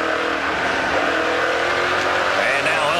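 NASCAR Pinty's Series stock cars, a Chevrolet and a Dodge Challenger, racing closely on a track, loud sustained engine roar with rising revs and a faint squeal, filling the whole moment.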